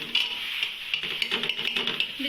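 A spoon stirs softened onion, tomato and oil in a pot, giving steady close scraping and light clinking with a faint sizzle throughout and no talking.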